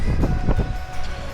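Wind at Benone Strand beach in Derry, a loud blustery rush buffeting the microphone in short gusts throughout.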